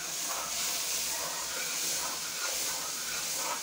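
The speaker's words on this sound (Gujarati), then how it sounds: "તડાકા મારે છે તેલ" Hot oil hisses and crackles in a pan while tempering a drumstick (moringa pod) curry, a steady broadband sizzle at moderate level throughout, with no speech.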